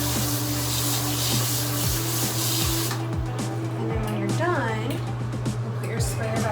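A loud, steady hiss of a water sprayer at close range rinsing a cloth diaper over a toilet, with a low mechanical hum and rhythmic clicks underneath, then the spray drops off partway through.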